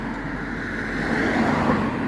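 Steady road traffic of cars, trucks and buses on Route de Rouen in Amiens, a continuous broadband roar that swells slightly as a vehicle passes nearby, heard alone without talk.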